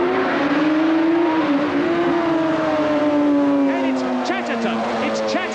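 Racing 750cc motorcycles at Brands Hatch in 1977 roar past together, loud and near, their engine notes sliding down in pitch as they go by, with a commentator talking over them.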